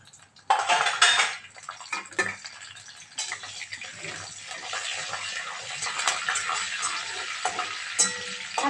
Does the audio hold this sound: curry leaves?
yes